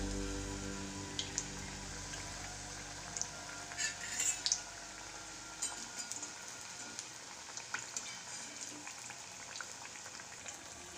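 Banana bhajji deep-frying in oil over a low flame, a steady close bubbling hiss with scattered pops and crackles that keeps going throughout, and a low rumble that drops out partway through.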